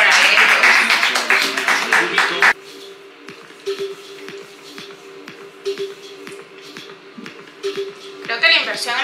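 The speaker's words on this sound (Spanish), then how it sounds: "Un aplauso para ellos." Applause greets the Lima 2019 Pan American Games closing ceremony: a loud burst of clapping that drops away after a couple of seconds to scattered taps and voices, then swells briefly again at the end.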